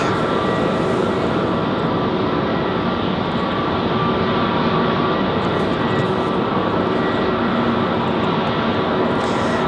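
A Boeing Dreamliner airliner being pushed back at Raleigh-Durham International Airport, a loud continuous jet engine roar with a broad steady rumble throughout, no voices.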